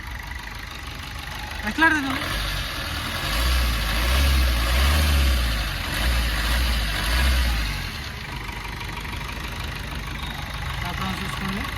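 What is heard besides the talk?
Maruti Swift LDI diesel car engine starting and idling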